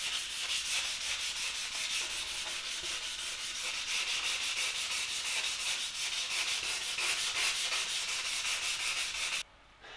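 Rapid, rhythmic rasping of sandpaper rubbing back and forth over primer on a carbon bicycle wheel, loud and close, continuing steadily before stopping abruptly near the end.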